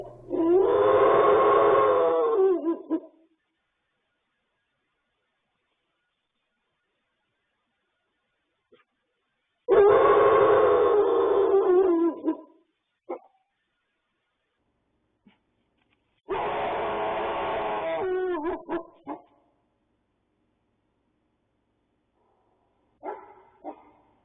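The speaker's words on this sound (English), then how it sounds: "That bark howling is clearly a sign of a threat display." Wolves bark-howl at night, caught on a surveillance camera: three long, loud, wavering calls a few seconds each, separated by stretches of silence, with a few faint short yips between them.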